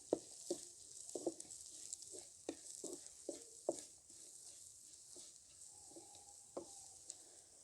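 Onions cooking with chili, turmeric and salt in a pan give a soft sizzle, with a spoon stirring in irregular light scrapes and taps, close and fairly quiet, with no voices.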